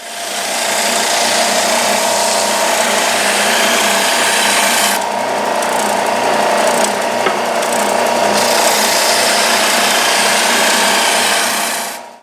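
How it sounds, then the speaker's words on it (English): A bandsaw rough-cuts a wooden table support with a continuous loud buzzing whine and a rasping blade bite through the wood, steady throughout with a brief shift midway as the cut changes. "So I'm going to rough cut this on the bandsaw"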